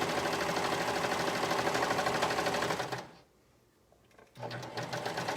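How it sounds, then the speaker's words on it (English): A sewing machine stitching a cardigan runs steadily and close for about three seconds, stops briefly, then starts again, with a fast, even mechanical rattle. "Let's go ahead and sew the other one together."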